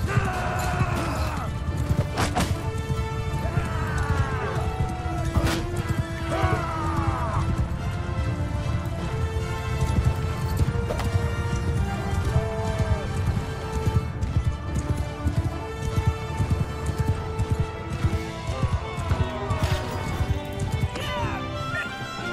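Horses in Mount & Blade II: Bannerlord gallop during a raid, with continuous rhythmic clip-clop hoofbeats and occasional whinnies amid other battle noise. A voice is heard faintly at times.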